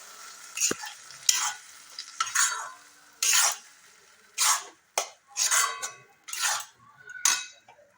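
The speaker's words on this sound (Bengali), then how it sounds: "আমি এখানে এটা নাড়াচাড়া করতে শুরু করে দিয়েছি" A pea filling for kachuri stirred in oil in a pan on a medium gas flame, with repeated sharp scraping strokes of a spatula in an uneven rhythm over a faint sizzle, close and loud, no talking.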